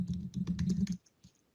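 Close keystrokes on a computer keyboard, a quick run of taps lasting about a second, then stillness with one last soft click.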